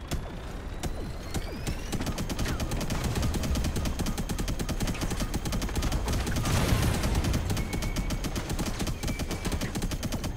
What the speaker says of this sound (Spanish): Vale, me están disparando aquí abajo.